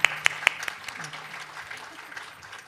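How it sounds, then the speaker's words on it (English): Applause rises from an audience at a piano concert, starting with a few sharp, loud claps and settling into a softer, steady patter of many hands that continues to the end. "Can we have a bigger round of applause"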